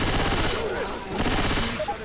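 Rapid gunfire in Left 4 Dead 2 during a fight against a tank, dense overlapping shots filling the whole moment, loud and close with mixed game noise.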